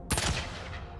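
A submachine gun fires in Star Citizen, a sharp burst of rapid shots that starts abruptly, loud and close, then tails off into a fading echo, with no voices.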